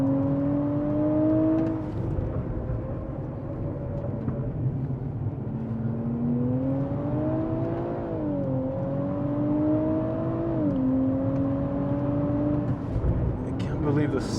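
A race car with a fast-shifting automatic gearbox accelerates, its engine note climbing steadily then dropping sharply at quick upshifts, repeated several times, heard from inside the car with talk over it.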